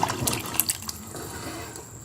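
Meat broth from a qorma pours into cooking lentils for haleem in a pot on the stove, with close splashing and dripping liquid sounds that fade into a quieter trickle.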